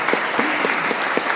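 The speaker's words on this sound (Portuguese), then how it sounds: "Pode aplaudir forte, irmão." A church congregation claps loudly in steady, dense applause that fills the room, with a voice faintly mixed in.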